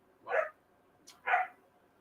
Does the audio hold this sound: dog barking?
yes